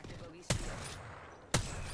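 Two loud single gunshots in the video game Apex Legends, about a second apart, each a sharp crack with a brief tail, over quiet background.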